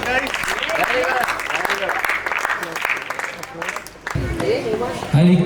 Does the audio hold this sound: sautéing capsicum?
no